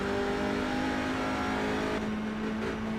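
A touring car engine in a sim racing game drones steadily near its rev limiter at Silverstone, a loud, sustained buzzing tone with a faint race-commentary bed underneath.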